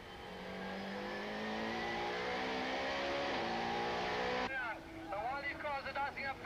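A 1995 South African Super Touring race car engine, heard from an onboard camera, holds a strained high rev for several seconds and then cuts out abruptly, with commentary continuing over the fading mechanical noise.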